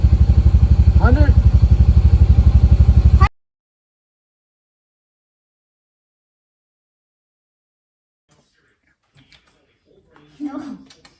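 A 2022 Honda Pioneer 700 side-by-side engine runs loud and close with an even rumble for about three seconds, then cuts off into near silence with only faint scattered noises afterward.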